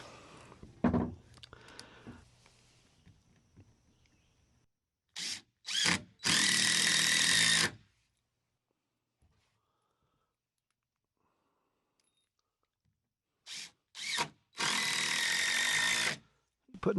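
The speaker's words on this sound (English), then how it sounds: "Putting these extra holes in my deck" A power drill bores holes into wooden deck boards in two bursts, each with short blips of trigger pulls and then a sustained loud whirring run, separated by near silence, with quiet handling noises at the start.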